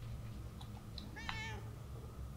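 A cat in the video game Murdered: Soul Suspect gives a single clear, wavering meow over a low steady background hum, preceded by a couple of faint small clicks.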